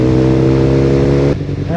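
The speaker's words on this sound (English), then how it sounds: "That Akropovich, once you take the baffles out, is just a glorious, glorious sound." A 2015 BMW R nineT motorcycle with an Akrapovic exhaust, baffles removed, revs loud and close with a steady harmonic roar, then cuts sharply and blips back up near the end.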